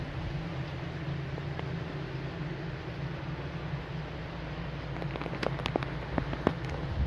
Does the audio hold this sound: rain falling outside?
yes